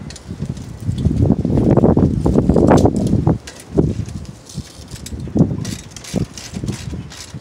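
Gusty wind buffets the microphone outdoors during brake work on an M37, with loud broadband rumbling bursts in the first half easing to intermittent lighter gusts.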